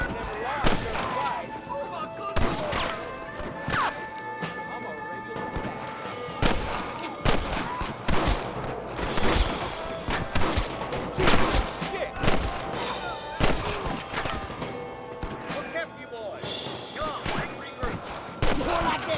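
Sustained gunfire in a Red Dead Redemption shootout, repeated sharp shots and ricochets, some near and loud, others farther off, mixed with shouting voices and game music throughout.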